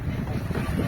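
A sailboat running downwind at about 4-5 knots, surfing on waves while crossing from Greece toward Algeria, gives a steady close rush of water and wind buffeting the microphone, with no voices.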